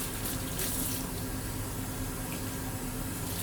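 A tap runs steadily in a photo lab sink, rinsing a lidded chemical container under a constant splashing hiss of water, close and moderately loud, with no talking.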